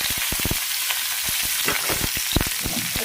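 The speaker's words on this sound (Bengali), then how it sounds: "এবার একটু আমি তেলের মধ্যে সাঁতলে নেব" Cut potato and jackfruit seeds frying in mustard oil, a dense, loud sizzle with quick clicking stirs and spatters, close up, no talking.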